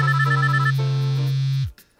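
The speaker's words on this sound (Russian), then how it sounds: "Кто это нам звонит? Алло." A phone ringtone plays loud and close in a steady melodic electronic tone for under two seconds, then cuts off abruptly into quiet.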